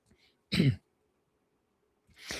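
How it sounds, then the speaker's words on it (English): A single short throat clear rises out of near silence, with a second throaty sound starting just at the end, close to the mic and with no talk over it. "excuse me while I clear my throat"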